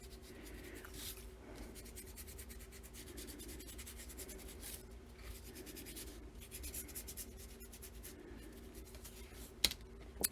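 Copper ink is dabbed and rubbed onto a dry-embossed card, giving faint, close scratchy rubbing and brushing strokes in short repeated bursts over quiet room noise, ending with a couple of small taps.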